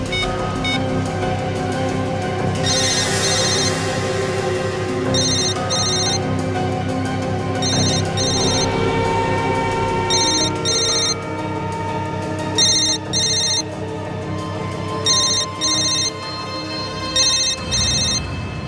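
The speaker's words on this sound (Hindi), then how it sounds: "किसका फोन है ये?" A telephone rings in repeated electronic bursts inside a movie theatre, loud and regular over a dense background of film soundtrack noise.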